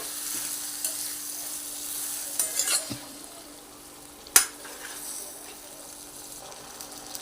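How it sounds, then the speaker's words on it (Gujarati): A brinjal and potato curry is stirred in a pan, with a faint sizzle underneath, a few scraping strokes, and one sharp clank of the utensil against the pan. "હવે આને સરખી રીતે આપણે મિક્સ કરી દેવાનું છે"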